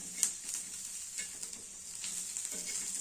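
Kare fruit sizzling in a pan over a low flame, a steady soft frying hiss with occasional stirring scrapes, close and fairly quiet, no voices.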